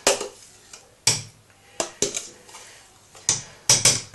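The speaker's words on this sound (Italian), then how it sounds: "Bisogna mescolare energicamente." Egg white and mascarpone whisked vigorously in a bowl for strawberry tiramisu, heard as a string of sharp, irregular clinks and scrapes of utensil against the bowl, close and fairly loud, with no talking.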